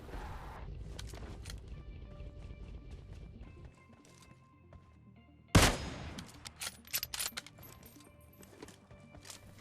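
Gunfire in the PUBG battle royale game during a city fight, a sudden sharp shot followed by scattered shorter cracks and impacts over quieter in-game ambience, fairly loud against the background.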